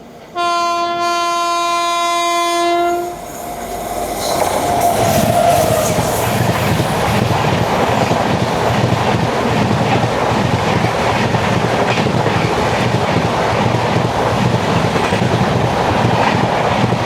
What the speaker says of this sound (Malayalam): കേരള സമ്പർക്രാന്തിയാണ് വരുന്നത്.